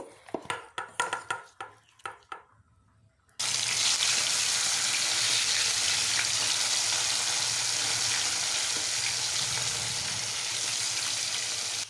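Fish hitting hot oil in a wok for a Bengali family fish curry bursts into a loud, steady broadband sizzle that holds to the end, after a few seconds of quieter handling clatter.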